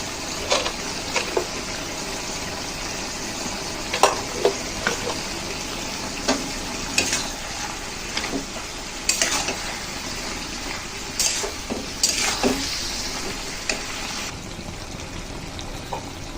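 Hilsa fish bhaturi cooking in a pan, a continuous sizzle and frying hiss with intermittent scraping knocks of stirring, close and loud.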